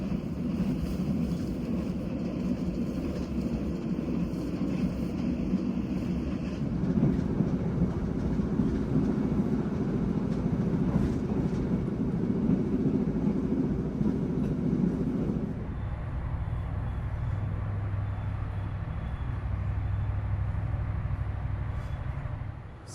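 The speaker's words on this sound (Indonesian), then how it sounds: "kereta api Malabar telah tiba di stasiun Gombong" From inside a Malabar priority-class passenger train arriving at Gombong station, a continuous loud rumble and roar shifts to a lower, quieter drone as the train slows and stops, with no talking.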